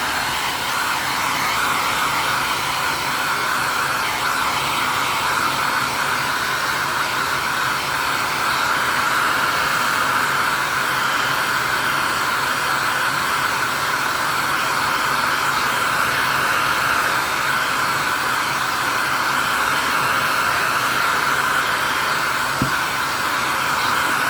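Hair dryer drying paint on a craft project, a loud, steady, continuous blowing roar heard close and alone throughout.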